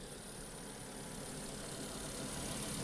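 A 2010 Nissan Qashqai with a 1.6 petrol engine idles quietly and evenly, a steady low hum with no surges.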